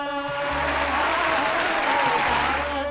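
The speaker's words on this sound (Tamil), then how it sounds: "கைத்தட்டி உற்சாகப்படுத்துங்கள்" Audience applause at a Women's Day working women achiever awards ceremony, a dense steady clatter of many hands clapping close by, filling the whole stretch without a break over a low background hum.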